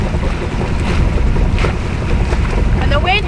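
Sailboat motor running on the open ocean at about 5 knots, a constant low engine drone mixed with rushing wind and water noise, close and loud the whole time.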